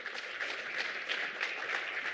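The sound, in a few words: audience round of applause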